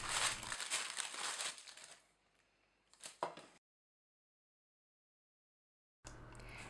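Baking parchment crinkles and rustles loudly as it is pressed into a deep 23 cm round cake tin, then quietens, with a short crackle before a silent gap and renewed rustling.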